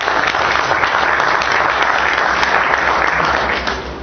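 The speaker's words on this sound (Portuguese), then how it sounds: "Uma salva de palmas, Eduardo." An audience at an academic week event claps loudly and continuously, a dense wash of many hands that holds for about four seconds before easing off at the end.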